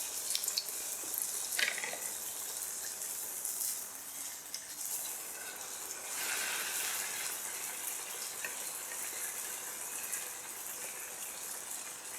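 Hot oil hissing and crackling as spice-coated tempeh fritters fry in a wok, a steady loud sizzle with occasional sharper bursts.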